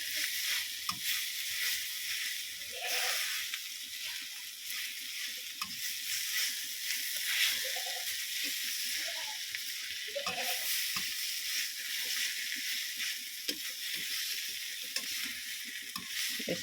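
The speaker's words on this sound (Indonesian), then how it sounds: "Kita tumis daun singkong" Cassava leaves stir-fried in a wok, a bright, steady hiss of frying carried throughout with occasional clinks and scrapes of a utensil, moderately close and without anyone speaking.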